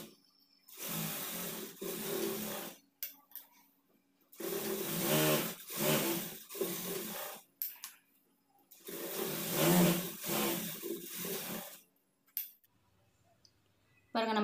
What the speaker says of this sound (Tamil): அந்த நேர் வச்சு தையல் போட்டுக்கலாம்.